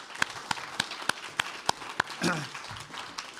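A handful of audience members at a Provincetown faculty reading clap for a poet, with sparse, evenly spaced claps close by and a voice speaking briefly near the end.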